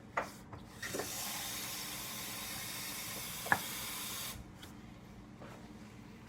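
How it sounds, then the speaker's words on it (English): Water poured into a cooking pan already holding heavy cream, for a scallop and shiitake mushroom cream sauce, making a steady, fairly quiet hissing pour that runs for about three seconds, with a small clink partway through. "I'm just going to add just enough water"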